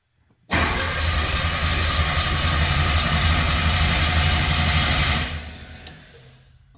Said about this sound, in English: It's cranking over.